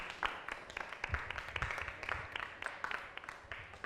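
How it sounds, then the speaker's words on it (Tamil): Faint, distant applause from a group, a steady patter of many hands clapping without pause. "பலத்த கைத்தட்டலோட டிகன் தாமஸ் அவர்களை அன்போடு வரவேற்கிறேன்"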